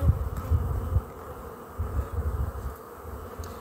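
Honeybees on a brood frame lifted from a colony hum in a steady low drone close by, with a few brief louder swells as they stir.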